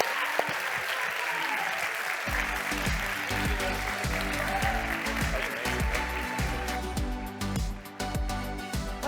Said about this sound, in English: give this man a round of applause and all the Starbucks Workers United